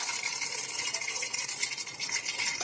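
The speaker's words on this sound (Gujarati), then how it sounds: "તેલ આવી ગયું છે, થોડીક રાઈ ઉમેરી દઈએ" Mustard seeds sizzle and crackle in hot oil, tempering a pan for a Gujarati gravy-style cowpea curry, a steady dense hiss that runs the whole time with no talking.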